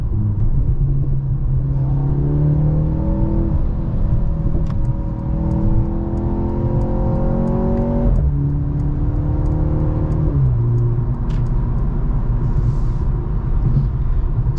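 A 2023 Mercedes-Benz C43 AMG with a 2.0T engine, heard from inside while driving. A loud, close engine note climbs steadily under acceleration, drops sharply at each of several gear shifts, then rises again.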